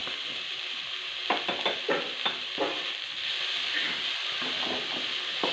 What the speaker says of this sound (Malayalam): ഇതുകൂടെ ചേർത്ത് നന്നായിട്ട് ഇളക്കി ഇതിലേക്ക് പാവയ്ക്ക ഇടാം.